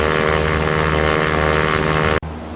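A steady, loud droning engine of an aircraft cruising in the X-Plane flight simulator, constant harmonic hum throughout that cuts off abruptly near the end.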